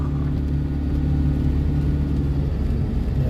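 A car engine under steady load, climbing a steep uphill grade with the throttle held open, giving a continuous loud low rumble and drone throughout with no pauses.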